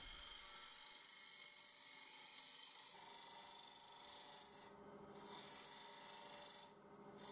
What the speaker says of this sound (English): getting into the very bottom and the final cleanup with the Simon Hope hollower